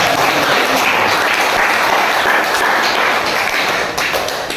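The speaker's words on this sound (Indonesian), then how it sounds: "tepuk tangan dulu untuk presentasi" Students in a classroom applaud right after a group presents its experiment results, giving dense, loud, continuous clapping for over four seconds that thins slightly at the end.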